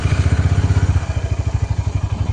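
Motorcycle engine idling close by, a loud rapid pulsing thump with a steady rhythm, no talk.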